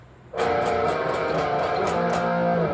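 Electric guitar chords ring out with strummed, rhythmic accents and sliding pitch, sustained and fairly loud against a faint hum beforehand.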